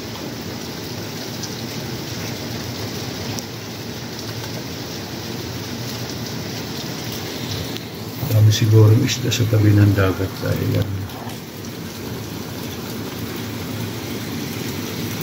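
Heavy rain pours steadily outside a kitchen window in Saudi Arabia, a dense continuous hiss throughout. A person speaks briefly midway over the downpour.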